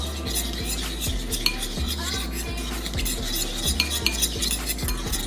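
Chopped parsley mixture stirred in a bowl, a utensil scraping and knocking against the sides in a steady rhythmic motion, close, with light clinks and a constant low hum behind.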